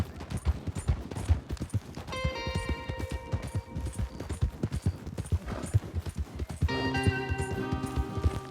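Galloping horse hooves in Red Dead Redemption 2 pound in a steady rapid rhythm throughout, with sustained musical tones swelling over the hoofbeats.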